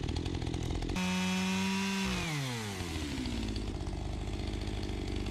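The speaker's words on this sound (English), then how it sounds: "The two roots are out, and I cut them up with the chainsaw" A chainsaw cuts up dug-out tree roots in a backyard, its engine loud and close with a steady buzzing drone that climbs in pitch, then drops as it bogs into the wood and settles back into a rough, continuous whine.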